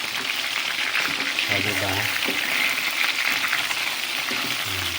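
Longganisa sausages, cheap ones, sizzle in a pan with a steady hiss and crackle of frying oil, moderately close, while a voice speaks briefly over the cooking.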